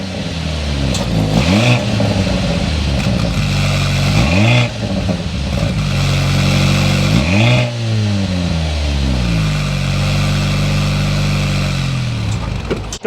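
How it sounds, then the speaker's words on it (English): A Mercedes-AMG C43 with an electrified turbocharged engine is revved hard repeatedly from close by, loud exhaust swells rising and falling in several blips over a constant idle. "We need to go inside, start it up so you can hear that exhaust note."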